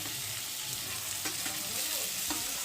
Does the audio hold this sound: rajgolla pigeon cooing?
no